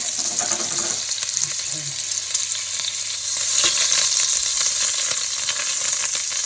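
Oil and butter sizzle loudly in a pot with a dense, crackling hiss that swells slightly midway, alongside faint background sounds.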